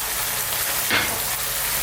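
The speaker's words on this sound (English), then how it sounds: "let's drop in our onions now" Onions hit a hot pan on high heat for a beef curry, giving a steady frying hiss with a brief swell of sizzle about midway through.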